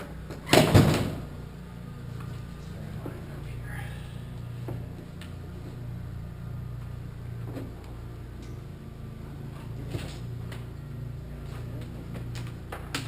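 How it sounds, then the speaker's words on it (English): The tailgate of a Honda Pioneer 1000 utility vehicle is knocked down outdoors, giving one loud, close metallic bang that fades into steady low engine idle and faint rattles. "knock this tailgate down"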